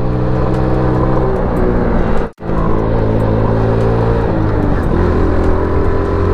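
A motorcycle engine fitted with a local carburetor revs loudly and steadily close by, with one brief cutout before the engine note resumes.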